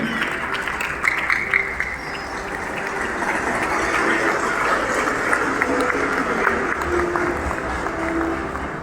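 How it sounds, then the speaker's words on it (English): Audience applause at a corporate awards event, HCLTech 2024, a steady dense wash of many hands clapping that holds throughout with a faint voice or music underneath. "Applause, applause, ladies and gentlemen."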